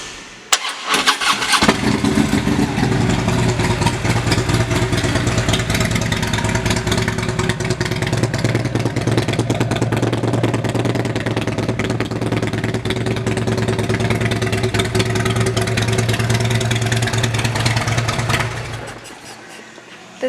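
A 2016 Electra Glide CVO Limited touring motorcycle with a Reinhardt exhaust cranks over and catches, then settles into a loud, steady, close-up idle that runs for about sixteen seconds before the engine is shut off.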